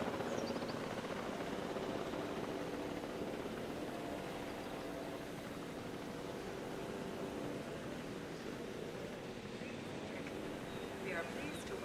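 A helicopter in Jurassic World Evolution 2 carries a dinosaur, its steady rotor rumble and whine droning on at moderate level while someone talks over it.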